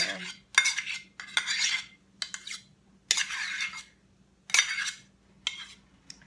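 A keto honey mustard dressing is stirred in a bowl with a metal utensil, giving repeated scraping clinks in bursts of a second or so with short pauses between them, close and clear with no talking.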